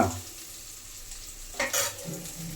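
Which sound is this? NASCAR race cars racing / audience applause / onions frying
onions frying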